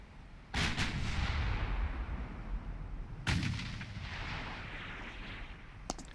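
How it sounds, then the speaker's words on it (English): Warship main guns booming as ranging shots in the naval video game Ultimate Admiral: Dreadnoughts: two heavy, reverberant blasts about three seconds apart, each rolling off into a long rumble, followed by a fainter sharp report near the end. "There go the ranging shots."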